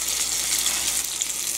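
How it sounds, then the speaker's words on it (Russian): A steady, bright sizzle of fish frying in a pan at a lakeside camp in Karelia, loud and continuous without pause or voices. "Итак, жарим рыбу."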